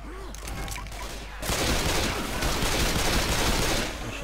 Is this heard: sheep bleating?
no